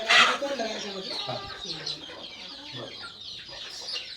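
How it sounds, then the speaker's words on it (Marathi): Chickens cluck on a poultry farm at Halani, a busy cluster of close clucks and squawks with a sharp call at the start and a faint voice underneath. "तर आता तुम्हाला कोंबड्या पण दाखवतो"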